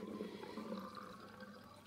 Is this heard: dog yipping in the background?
no